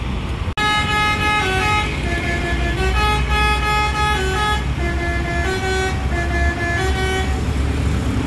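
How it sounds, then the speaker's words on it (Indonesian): Several loud bus horns blare in long overlapping tones, one after another, close by, over a rumbling engine background, at a bus rest area in Kalianda. "Udah klakson-klakson aja ya bis-bisnya ini persiapan berangkat."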